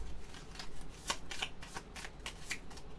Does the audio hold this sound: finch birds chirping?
no